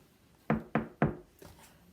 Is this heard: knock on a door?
yes